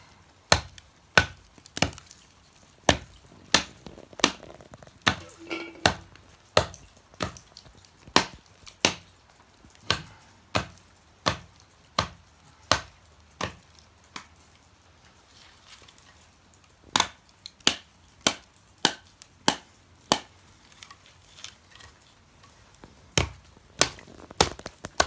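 Wood being chopped for a campfire at a rainy bivouac, a steady run of sharp, close hatchet or axe strikes in a regular rhythm with short pauses, some faint background sounds between blows.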